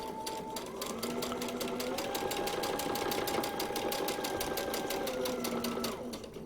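Sewing machine stitching a paper-pieced quilt block, a steady rapid mechanical whirring with even needle pulses, running continuously for several seconds with slight pitch shifts as speed changes.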